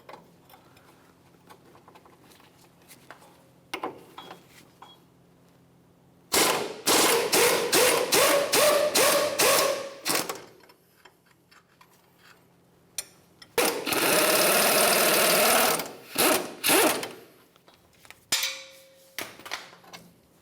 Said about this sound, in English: We'll hold that nut in place and then remove the bolt.